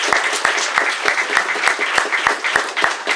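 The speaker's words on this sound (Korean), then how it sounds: "이 청년들을 위해서도 뜨거운 박수를 부탁드립니다." An indoor audience at a political speech gives sustained, even applause for young people, many hands clapping together in a steady rhythm without voices on top.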